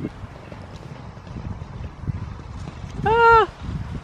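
Out in a field, horse hooves thud softly and irregularly against a low outdoor background, and a short, loud whinny rises near the end.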